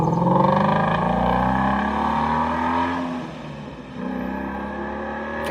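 A supercharged Ford Mustang GT350 V8 revs loud and close, its engine note climbing and holding with a rough rumble underneath, then dipping briefly before rising again.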